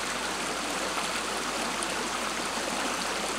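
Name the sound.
stream water flowing from Mount Kilimanjaro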